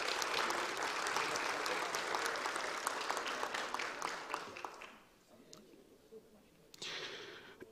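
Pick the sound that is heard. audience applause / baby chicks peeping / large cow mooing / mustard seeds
audience applause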